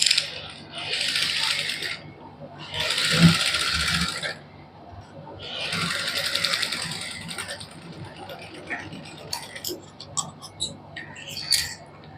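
A sewing machine runs basting stitches to attach lace to a cotton suit sleeve, whirring in three close bursts of a couple of seconds each, followed by quieter scattered clicks and handling sounds.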